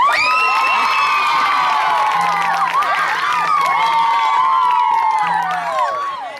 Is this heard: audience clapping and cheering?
yes